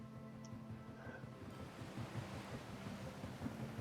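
Faint, steady wash of water and wind-like noise with a low mechanical hum, as from a ship stranded inland on an island map in Transport Fever 2.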